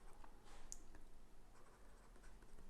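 Quiet scratching strokes of writing on a board during a physics lecture on symmetries, soft brief marks scattered over a faint room background.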